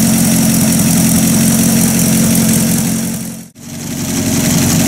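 A Buick Roadmaster engine idles while warming up, a loud steady rumble with a brief dip and recovery near the end.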